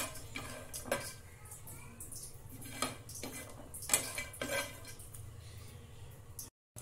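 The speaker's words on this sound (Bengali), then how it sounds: "বাদামগুলো তেল ছাড়া ভালোভাবে ভাজা হয়ে গেছে।" Raw peanuts dry-roasted without oil in a pan, stirred with a utensil: quiet, irregular metallic clinks and scrapes at close range over a soft background hum, with no clear speech.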